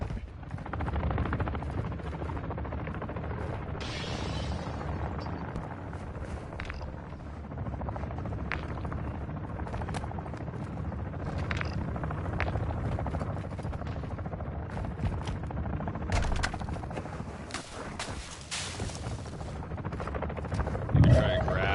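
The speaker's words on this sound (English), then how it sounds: "I got gunfire" Gunfire and a helicopter in the video game DMZ: a steady rotor drone runs throughout while scattered shots crack over it, with a louder burst near the end and players talking over the action.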